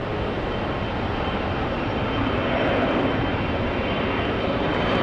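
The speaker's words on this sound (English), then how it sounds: "Envoy 3393 off to Chicago O'Hare." An Envoy airliner departs for Chicago O'Hare on a rainy day, heard as a loud, continuous broadband engine roar that swells slightly midway, with no talk.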